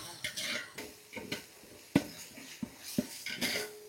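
Ginger-garlic paste, made from peeled garlic and ginger, frying in a pot for a country-style trevally fish biryani, soft sizzling under repeated clinks and scrapes of a stirring spoon against the metal.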